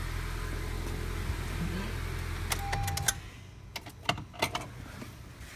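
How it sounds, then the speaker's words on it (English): A 2015 Honda Accord LX sedan idles with a low steady hum that cuts off about three seconds in, followed by sharp clicks and jangling keys as the car is switched off. "Shut the car off"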